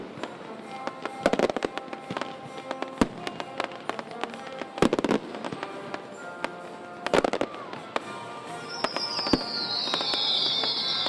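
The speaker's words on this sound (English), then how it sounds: "topped off with a patriotic blast with one of the Empire's largest fireworks displays" A large outdoor fireworks display: several heavy booming bursts land every few seconds amid a steady crackle of smaller pops, and a rising whistle swells near the end. No voices are heard.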